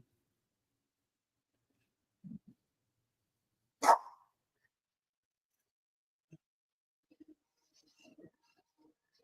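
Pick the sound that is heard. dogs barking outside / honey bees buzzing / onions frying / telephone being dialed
dogs barking outside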